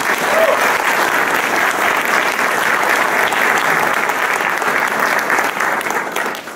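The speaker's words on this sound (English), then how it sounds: "Let's give all our field fellows a round of applause." At an ACLU Bill of Rights Day event, an audience gives the field fellows a sustained round of applause, a broad even wash of many hands clapping that continues throughout before easing off at the end.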